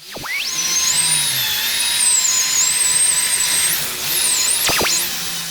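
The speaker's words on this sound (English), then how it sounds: "Do not constantly drill polish in one area" A power drill polishing a car headlight lens whines loudly and steadily, its pitch rising and wavering as it works, briefly dipping near the end before spinning back up.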